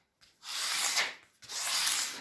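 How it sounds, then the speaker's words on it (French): Scraping tape and paper off a surface in two long rasping strokes, a short pause between them, close and fairly loud with no talking. "Allez, on va racler tout ça."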